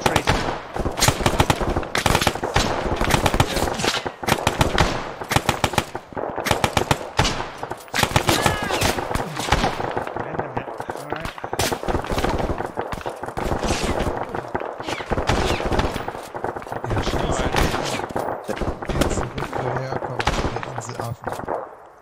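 Dense, continuous automatic and rifle fire from a WWII video game battle at Salerno, rapid bursts and single shots layered near and far throughout, with voices talking over the shooting.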